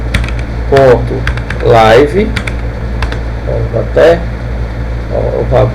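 Quick bursts of typing on a computer keyboard, close and clear, play under continuous talking in Portuguese during a Canva lesson.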